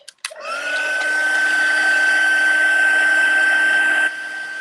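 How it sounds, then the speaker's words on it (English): A heat tool runs steadily for about four seconds, melting embossing powder on a stamped paper collage, a loud, even blowing whine with a clear steady tone that clicks on and then drops in level near the end. "So let's bring our heat tool back and our tweezers to hang on to it."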